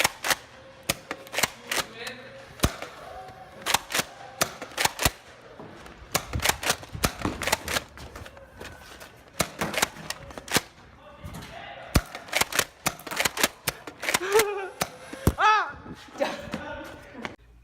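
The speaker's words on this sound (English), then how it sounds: "here's some footage of the blaster in action at a recent Nerf war with Nerf City" Air-powered 3D printed Nerf Modulus Recon MKII blaster firing during an outdoor Nerf war, sharp pops and clacks in irregular rapid bursts, mixed with other shots and voices in the background.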